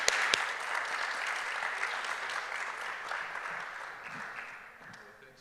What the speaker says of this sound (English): we all want to give him a big applause for this organization